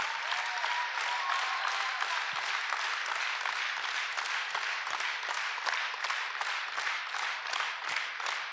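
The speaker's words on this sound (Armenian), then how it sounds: "ձեր ծափերը թող հնչեն" Audience applause fills a church worship gathering, with steady, dense clapping at an even volume from start to finish and rhythmic beats pulsing through it.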